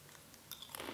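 A crunchy vegan snack made with rice bran oil being bitten and chewed up close, with faint quiet crunches giving way to a few sharper crackling bites near the end.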